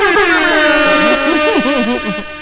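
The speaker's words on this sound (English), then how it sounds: "you just got to push the air horn" A loud, close air horn blasts in one sustained, wavering tone lasting a couple of seconds before tapering slightly at the end.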